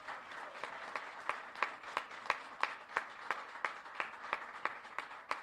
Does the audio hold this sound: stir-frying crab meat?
no